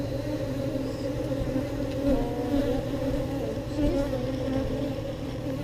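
A steady, dense hum comes from honeybees crowding a full comb frame pulled from a hive in Texas, with the drone holding level throughout and faint murmurs in the background.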